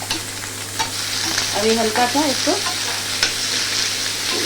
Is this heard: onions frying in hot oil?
yes